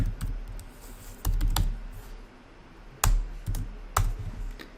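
Code being typed on a computer keyboard in bursts of clicky keystrokes, a few louder key taps standing out, close and alone with no talk.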